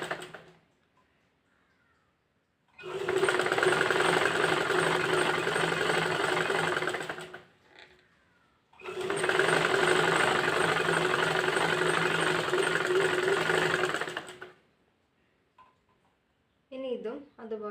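A domestic sewing machine stitching a folded nightie hem runs in two steady, loud bursts of several seconds each, with short pauses between them and brief talk near the end.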